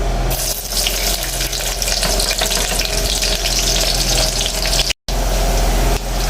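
Sliced onion sizzles in hot palm oil for waterleaf soup, a loud, continuous hissing fry that holds steadily close by, briefly cut off by a short gap before resuming.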